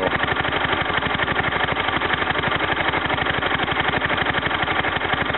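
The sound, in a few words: Kohler K241 small engine running after tune-up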